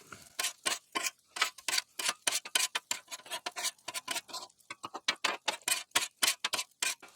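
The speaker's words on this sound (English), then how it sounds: "and stir frying it all up." Egg fried rice being stir-fried in an electric chafing dish, rapid rhythmic scraping and tapping of a utensil against the pan, fairly faint and steady throughout.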